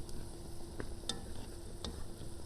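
Stale pide crisping in butter in a hot pan gives a steady low sizzle with a few soft clicks and stirring scrapes, close and faint, with no voices.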